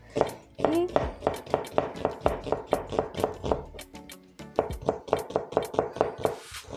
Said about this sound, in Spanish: Primero voy a picar la cebolla que voy a necesitar